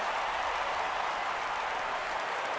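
Stadium crowd in MLB The Show 17 roaring and cheering steadily as over 39,000 fans rise to their feet during a baseball game, a dense continuous wash of noise with no break.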